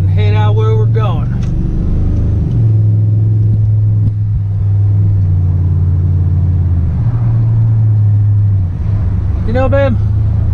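A Chevrolet Silverado SS truck drives down the road, a loud steady engine rumble with shifts in tone as it changes gear, while people talk over it inside the cab.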